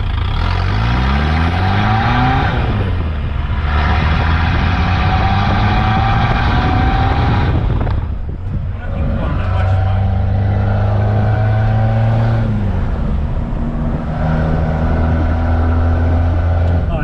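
A Suzuki Vitara with a swapped-in 2.1 turbodiesel engine runs at a high idle, its steady close drone rising and falling in pitch a few times as the revs shift, with voices faintly in the background.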